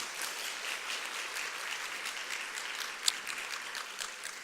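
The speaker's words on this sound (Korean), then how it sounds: "우리 신혜사 선교사님, 류승주 선교사님, 우리 박수로 맞아주시고요." A church congregation applauding to welcome missionaries, steady moderately quiet clapping from many hands filling the room, with one sharper clap standing out.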